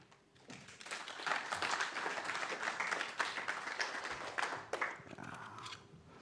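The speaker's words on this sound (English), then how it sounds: "massive welcome applause for Andrew" A conference crowd at BSidesNCL 2022 in Newcastle gives a speaker a welcome round of applause, a dense wash of clapping that swells quickly, holds for several seconds and fades out, with faint voices mixed in.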